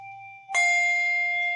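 A handbell is struck in a weaving pattern, one bright, close ring that sustains and slowly fades, following a softer tone already hanging in the air.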